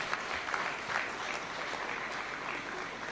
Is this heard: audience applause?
yes